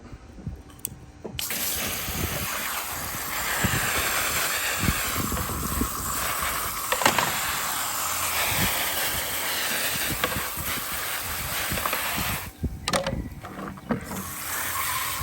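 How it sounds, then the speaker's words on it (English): Fresh water rinsing a robotic pool cleaner, a steady close splashing wash lasting throughout with small plastic clicks and rattles of the unit being handled. "now you just take some fresh water and you rinse it"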